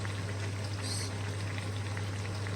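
Low bubbling simmer from a pot of eggplant stew, a steady soft burble over a constant low hum, with no voices.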